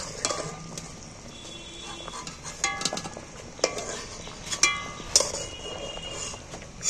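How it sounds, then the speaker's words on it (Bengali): Boiled jackfruit is lifted and strained out of its cooking water with a metal utensil, giving close scraping and wet shuffling punctuated by sharp metallic clinks against the pot, with no talking. "এবার আমি জল থেকে ছেঁকে এঁচড়টা তুলে নিচ্ছি"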